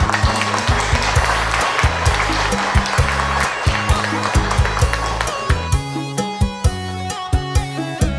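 Applause from guests at a Vietnamese engagement ceremony, a loud dense crowd of clapping that holds steady and then thins toward the end, with music running underneath.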